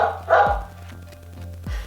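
Dog barking sound effect from a Mebo 2.0 robot toy: two sharp barks about a second apart, played close through a small speaker over a low steady hum.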